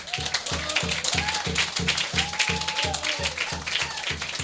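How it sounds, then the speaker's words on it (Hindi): A church congregation at a Hindi sermon claps in a steady, rhythmic beat, quick even claps continuing throughout, loud and close, with voices mixed into the sound. "ताली देखो ऐसा जैसा मक्की मारते ना वैसा ताली बजा रहा।"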